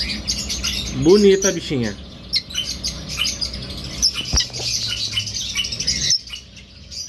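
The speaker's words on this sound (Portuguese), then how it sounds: "Casal de Red Humped opalino verde" Red-rumped parrots, green opaline and harlequin pairs on show at an agricultural fair, chirp and tweet in sharp bursts amid busy background chatter, with a person speaking briefly over the birds.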